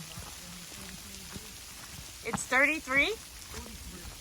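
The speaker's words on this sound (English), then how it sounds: "it's actually raining and sleeting." Rain mixed with sleet falls steadily on a hiking trail near Fayetteville, Pennsylvania, a soft continuous patter with a short spoken exchange rising over it partway through.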